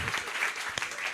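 Audience clapping at a testimony gathering, a brief burst of fairly soft applause with overlapping claps.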